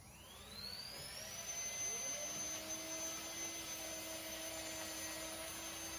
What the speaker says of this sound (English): putting the compression vacuum on